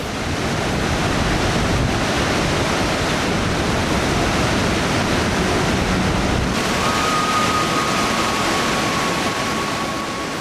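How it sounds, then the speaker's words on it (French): Iguazu Falls, a chain of 275 waterfalls in a vast natural park, gives a loud, steady, broadband roar of falling water with no breaks, and wind buffets the microphone. "nous voilà devant les chutes d'Iguazu"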